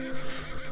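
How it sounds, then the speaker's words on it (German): A horse on a farm neighs excitedly in one short, close whinny that stands alone in a brief burst. "Doch Jules wiehert aufgeregt"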